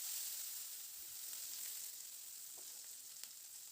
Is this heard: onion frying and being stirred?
yes